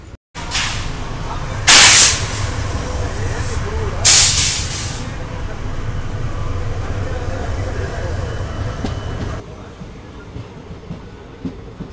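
An express train running from Yesvanthpur to Vasco da Gama departs a station with a steady low rumble throughout, broken by two loud, sharp bursts of hissing air early on, before the noise drops away near the end.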